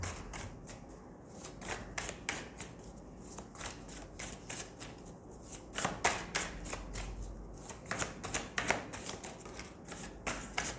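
Tarot cards are shuffled continuously, with rapid riffling and soft papery flicks in irregular bursts, close and fairly quiet, with no voices.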